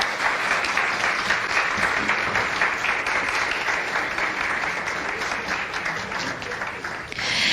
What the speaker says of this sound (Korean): 함께 박수 한번 보내주시기 바랍니다.